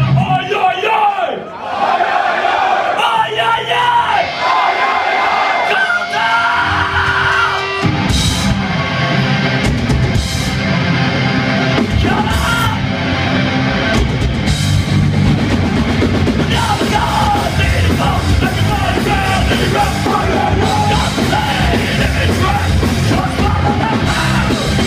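A concert crowd at a hardcore show in Graz yells "oh yeah" back loudly and continuously, a dense wall of shouting voices mixed with loud band noise.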